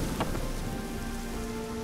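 Steady rain pours down in The Witcher 3: Hearts of Stone, a dense, even patter with a few sharper drops early on and a low tonal hum underneath, with no talk over it.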